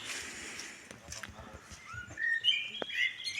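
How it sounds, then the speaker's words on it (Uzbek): Birds chirping in a juniper forest near Sary-Chelek lake, thin high calls rising toward the end over quiet background, faint and somewhat distant. "Faqat qushlarning sayrashi."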